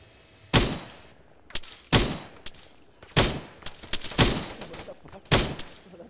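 Arma 3 gunfire in a tactical house-clearing operation: sharp separate shots and short bursts, about six loud reports spaced roughly a second apart, each with a quick decaying tail.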